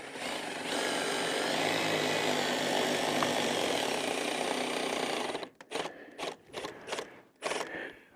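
A power drill drives screws into a big dining room window frame, first a long steady whirr, then several short spinning bursts, close and with no talking.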